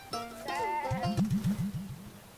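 Sheep and goats bleat close by, one long wavering cry followed by a rapid string of short stuttering bleats from another animal.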